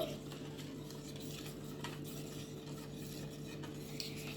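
Spoon stirring almond drink mix into milk in a cup or pot, a steady, faint scraping and swirling that runs continuously under a low background hum.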